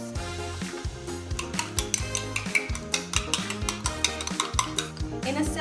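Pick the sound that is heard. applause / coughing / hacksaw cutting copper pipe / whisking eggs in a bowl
whisking eggs in a bowl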